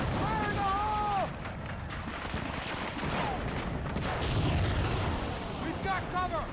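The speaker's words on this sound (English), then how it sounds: "Let's blow this fence." Medal of Honor: Frontline battlefield on PS2 with a charge blowing up a fence: rumbling blasts and dense gunfire run throughout, a heavy boom swelling midway, with shouted voices and whistling sounds over the din.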